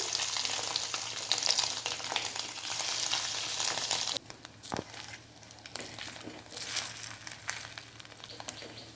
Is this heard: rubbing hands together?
no